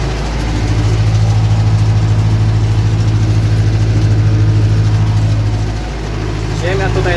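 A tractor engine rumbles steadily and loudly at close range during harrowing and fertilizer spreading on sandy soil, a low, continuous drone that dips briefly before resuming.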